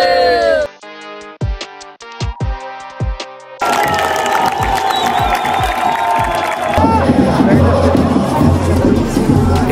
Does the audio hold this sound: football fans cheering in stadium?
yes